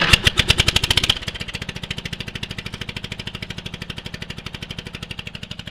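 A Toro Wheel Horse ride-on mower's engine runs with no muffler, firing in a fast, even train of loud, sharp exhaust pulses up close. It is slightly quicker and harsher for the first second, then settles into a steady idle.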